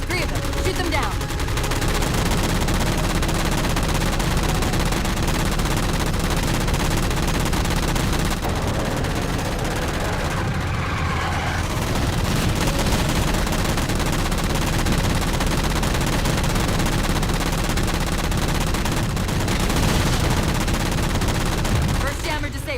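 Sustained automatic gunfire shooting down jammers in the Halo 4 video game, loud dense bursts of rapid shots that run almost continuously, with voices occasionally over the shooting.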